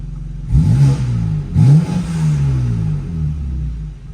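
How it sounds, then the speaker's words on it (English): A tuned, turbocharged 2024 BMW M2 engine revs twice in quick blips, deep and close, with turbo whooshes and flutter as the revs fall back to a rumbling idle. "All the turbo noises."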